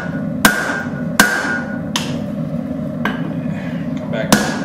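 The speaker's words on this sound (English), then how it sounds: "I'm pulling the hammer back onto the flat of the anvil." A blacksmith's hammer rings on a steel anvil while forging tongs, with five sharp metallic strikes spaced unevenly about a second apart, loud and close, over a low background rumble.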